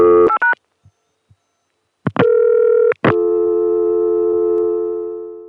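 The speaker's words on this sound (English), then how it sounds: "So you just hear me dial 2 digits to get that Atlanta dial tone," Two quick speed-dial tone bursts on a 1981 Continental Can ConTelNet company telephone line, a brief pause, then a loud, steady Atlanta dial tone that holds and slowly fades near the end.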